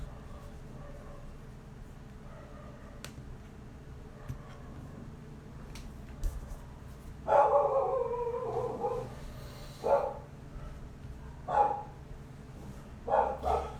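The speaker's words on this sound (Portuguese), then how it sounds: "O cachorro começou a latir porque a gente começou a live." A dog at home barks and howls several times in loud bursts during the second half, after a quieter stretch of faint room noise.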